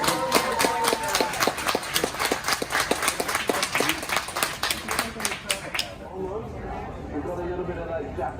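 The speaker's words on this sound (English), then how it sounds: "Please give him a big clap." Passengers aboard a Delta Airbus A350-900 clap for a retiring captain, a crisp rhythmic run of many claps that stops abruptly, leaving cabin hum and faint voices.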